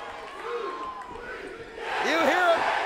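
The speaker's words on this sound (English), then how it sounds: "you hear the crowd calling for the tables" A large arena crowd at a TNA Against All Odds 2007 wrestling event chants and roars, a steady swell that grows louder in the last second, with voices in the crowd audible above it.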